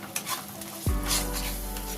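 Cauliflower korma with yogurt is stirred in hot oil, giving a continuous close sizzle with soft scraping and a low thump as the spoon moves through the pan.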